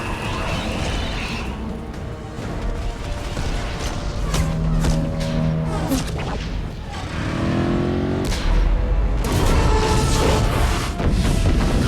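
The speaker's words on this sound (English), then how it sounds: "Now you can see the turrets are firing." Turrets fire in Mass Effect 2, with repeated heavy booms and blasts layered over game music and mechanical clanks, loud and dense across the whole stretch.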